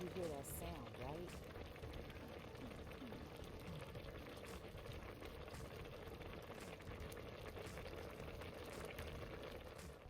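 Broth with black-eyed peas simmers quietly in a pot, a soft, even bubbling hiss that holds steady throughout, with a faint voice murmuring underneath.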